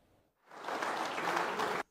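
Applause from a gathering of public administration and private sector experts at a round-table meeting, a dense burst of clapping that swells in and holds steady, then cuts off abruptly.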